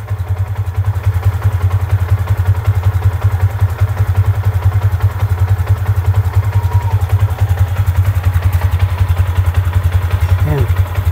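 A Yamaha Sniper 150 motorcycle engine, flagged with error codes 96 and 46, idles close by with a steady low throb and a light clatter that holds unbroken for the whole stretch, with no voices over it.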